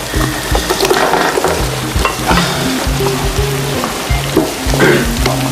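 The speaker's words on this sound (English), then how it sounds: "Once the onions have browned, you chuck your spuds in." Potatoes fry and sizzle loudly in a hot pan with browned onions, a dense continuous crackle with bursts of stirring, close and alone without talk.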